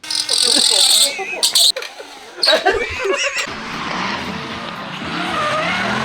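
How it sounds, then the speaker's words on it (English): A drifting car with a slight oil leak does a burnout, tires squealing in loud high-pitched bursts over a roaring engine, then settling into a steady rasping skid. "you have to do a burnout"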